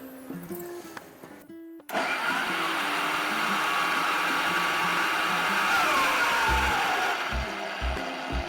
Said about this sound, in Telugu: ఇది కొద్ది కొద్దిగా వేసి మిక్సీ చేద్దాం